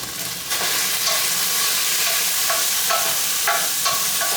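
A steak fries in olive oil in a pan, a loud, close sizzle with dense hiss and occasional sharper spits and scrapes.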